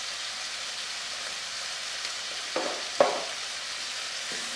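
Black pepper, thyme, steak seasoning and paprika sizzle in a pan with a steady bright hiss, broken by a couple of soft scraping stirs near the end.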